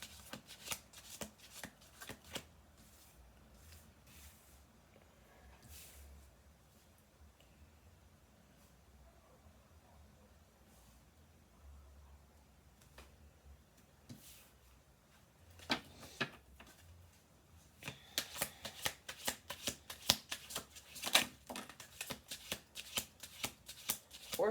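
Oracle cards are shuffled and laid out on a table, with scattered soft clicks early on, a quieter stretch, then a dense run of rapid crisp snaps and flicks toward the end, with no talk.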